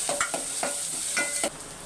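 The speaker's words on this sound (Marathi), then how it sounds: "हिरवी मिरची आणि लसूण मिक्सरला काढला." Green chili and garlic paste hit hot oil with cumin, onion and peanuts in a pan, a steady sizzle broken by a few quick stirring scrapes of a spoon.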